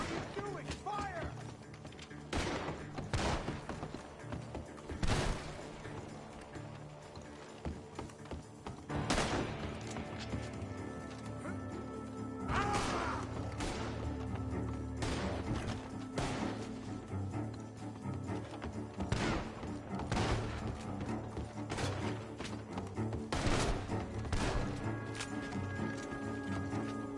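Gunfire in the video game Red Dead Redemption 2, with scattered sharp shots and clanking mechanisms spread over a steady bed of game ambience, music and voices, some shots louder than others.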